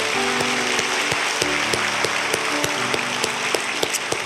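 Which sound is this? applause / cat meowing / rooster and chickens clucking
applause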